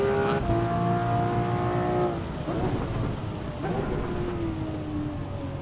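Rain hisses steadily in the Assetto Corsa EVO racing game under a loud whining race car engine that shifts pitch and drops off, a broad constant wash throughout.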